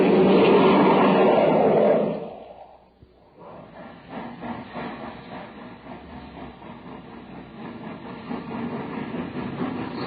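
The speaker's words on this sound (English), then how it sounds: "That was the Terra Express train trying to get up speed on ordinary fuel." Radio sound effect of a train straining to gain speed, the Terra Express on ordinary fuel: a loud rumbling burst drops away, then a faint, uneven chugging and rumble slowly builds back up.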